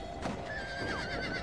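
A horse whinnies in a rising then falling cry over a steady background hum of game ambience in Red Dead Redemption: Undead Nightmare.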